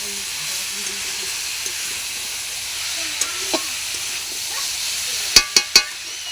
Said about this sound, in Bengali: এইভাবে আর একটু ভালো করে কষা করে নেব।